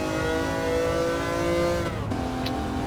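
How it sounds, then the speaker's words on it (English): A Lancia Stratos engine revs hard in Gran Turismo 7, climbing steadily in pitch with a rough rasp before a quick gear change from second to third near 60 mph drops the note, which then pulls up again. "I am revving this car from second to third around 60 mile an hour."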